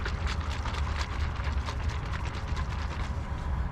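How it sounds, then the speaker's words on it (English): A bottle of Armour Detail Supply Ghost tire sealant shaken hard by hand, a fast, steady rattling slosh repeating close to the microphone for several seconds. "I'm gonna go ahead and shake up your product first"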